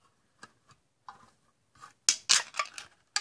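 A tablet crumpled and crunched by hand, heard as scattered faint crackles that build into a run of loud, sharp crunching bursts near the end.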